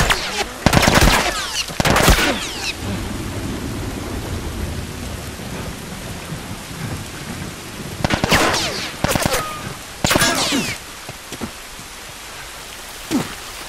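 Rain and thunder in The Last of Us video game: a steady wash of rainfall broken by several sharp, loud thunder cracks and rumbles that come and go.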